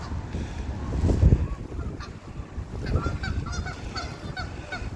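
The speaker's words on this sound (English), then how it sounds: "Oh shit, we got some Canadian geese. Looks like they're arguing with some mallard ducks." Canada geese honk loudly beside a creek, several calls overlapping in a noisy squabble with mallard ducks, with a louder burst of honking near the start over steady outdoor background.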